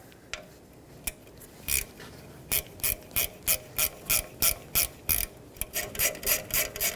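A ratchet wrench tightens a bolt on the rear backing plate of a 2009-2011 Ford F-150, producing close, crisp bursts of rapid clicking that repeat in a steady stroke-by-stroke rhythm.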